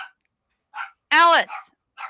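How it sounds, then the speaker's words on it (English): Dogs indoors give a few short yips and one louder sustained bark-whine, close and sharp, with quiet gaps between the sounds. "Sorry, my dogs are barking."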